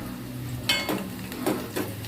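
Chopped onions with a pinch of cumin are stirred in a pan, with a few distinct scraping clinks of the utensil against the metal over a soft background sizzle, no voices.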